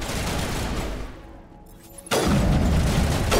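In the Mass Effect video game, a grenade goes off as a loud booming blast that bursts out after a short lull and rolls on amid continuous heavy combat noise.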